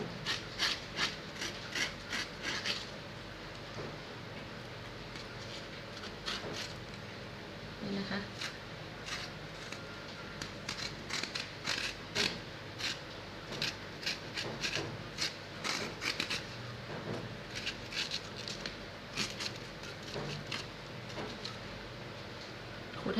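A spoon scrapes the seeds and pith out of a halved bitter melon, giving repeated close rasping strokes in uneven bursts over a dull kitchen background.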